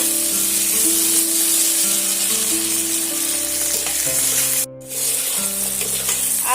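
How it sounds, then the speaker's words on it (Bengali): Steady, loud sizzling of potatoes frying in a pan, with a brief dip midway as if the pan is stirred or moved. "আমি এইভাবে আলুগুলো পাঁচ মিনিটের মতন এইভাবে ভাজা করে নেব"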